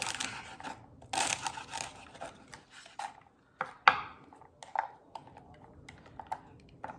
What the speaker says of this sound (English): I'm gonna just go ahead and chop them up